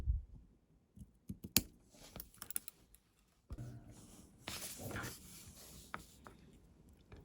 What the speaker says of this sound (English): And when it's dry, you can just cut the paper off,